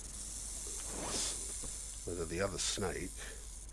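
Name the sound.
snake hissing in the video game Stranded Deep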